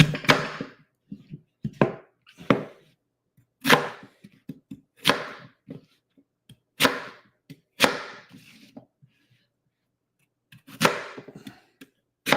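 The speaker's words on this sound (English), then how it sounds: "If y'all want to see the chopping" Knife chopping food during meal prep, a series of sharp close thwacks on a board in irregular bursts of one to three strikes separated by short silences, loud and crisp.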